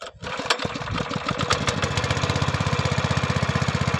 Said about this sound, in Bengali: মেশিন চালানো হচ্ছে, আমাদের জমি বুড়ে গেছে, তাই এই দেখো জল দিচ্ছে।